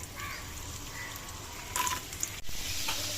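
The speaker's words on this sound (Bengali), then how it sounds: "এখানে প্রথমে একটু গাজরগুলো একটু ভেজে নেই।" Carrots fry in a pan as the first step of a home-cooked fried rice, making a steady, soft sizzle with a few faint clinks of stirring. The sizzle stays low and even throughout, with no voices.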